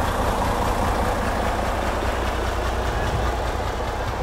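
Trucks idle in a line while waiting for the ferry at a waterfront street on Isla Colón, Bocas del Toro, Panama. Their engines make a continuous close, low rumbling drone with no talk.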